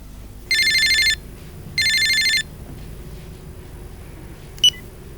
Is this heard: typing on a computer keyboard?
no